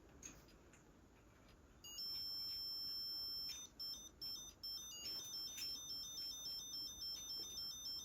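A music box plays a thin, high tinkling melody of bright plucked tones, starting after a quiet stretch of room noise and continuing with small pauses, faint and alone in a castle room.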